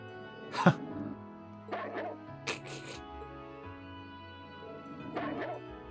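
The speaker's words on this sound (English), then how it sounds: "Very distantly recorded dog." Distant dog in the video game Trails of Cold Steel, giving several separate bow-wow barks and yips spaced across the clip over a quiet, steady game background.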